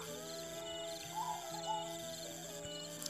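A zebra dove (perkutut) coos near a waterfall at Bukit Barisan on Gunung Betung, giving a soft, hooting call with short tonal notes over a steady droning background.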